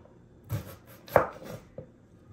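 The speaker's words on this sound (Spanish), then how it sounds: "ya vio cómo la partí a lo largo para que salgan los pedacitos de cebolla" A knife slicing an onion lengthwise on a cutting board gives a few separate cuts with one sharp, louder chop in the middle, close and clear with no talk.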